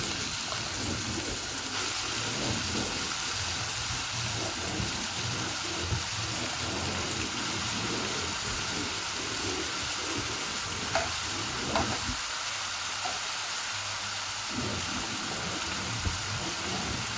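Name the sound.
potatoes frying in a pan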